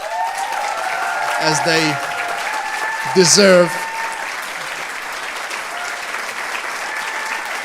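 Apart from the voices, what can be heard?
audience applause at graduation ceremony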